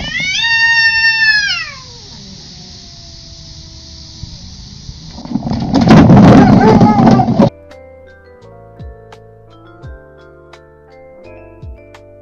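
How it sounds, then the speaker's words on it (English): A cat lets out a loud, drawn-out yowl and rising meows for about two seconds, followed by a burst of scuffling noise. Electronic music then plays with brief voices mixed in. "This cat was in trouble and yelled for backup from her big brother."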